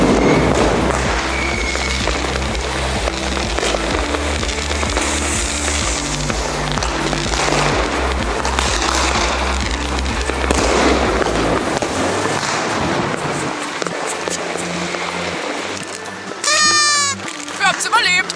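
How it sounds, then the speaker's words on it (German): Dense New Year's Eve fireworks and firecrackers bang and crackle continuously around a car driving through a crowded Berlin street, loud and close, with people talking and laughing over it. "Du fährst hier nur über Raketen, Böller und Co."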